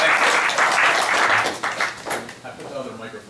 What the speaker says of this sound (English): please welcome David Arieti with a very round of applause